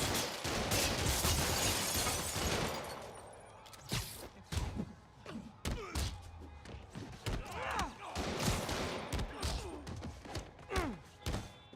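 Thugs fire guns in the video game Marvel's Spider-Man, a loud burst of rapid shots at first, then scattered sharp bangs, thuds and crashes from the fight.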